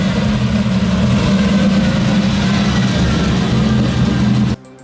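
A car engine drones loudly and steadily while the car tows a plane, a heavy low rumble held at constant strain before cutting off abruptly at the end.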